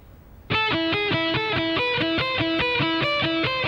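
Distorted electric guitar plays a lick at a slow tempo, hammer-ons and pull-offs linking an even sequence of clear, sustained notes after a sudden start, loud and close with no voice.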